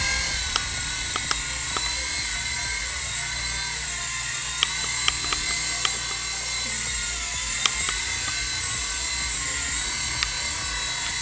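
Buzzing electric whine of a cheap $5 gyro-stabilized toy remote control helicopter flying, a steady high rotor drone with small clicks and taps scattered throughout, heard alone without talk.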